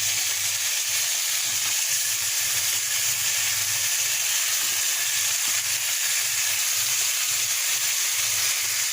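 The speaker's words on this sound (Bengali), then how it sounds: "লাউগুলো কষিয়ে নিয়েছে এবার চিকেনগুলো দিয়ে দেবো" Chicken pieces hit a pan of sautéed bottle gourd and fry with a continuous loud, even sizzle, a bright steady hiss with faint low bubbling underneath and no talking.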